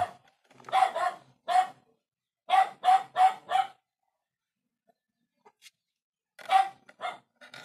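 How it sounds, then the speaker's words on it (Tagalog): Dogs bark in loud bursts of several quick yaps, pausing between volleys, fairly near with quiet gaps in between. "Ito kasi may mga aso kami dito, kaya kapag may dumaan na aso din"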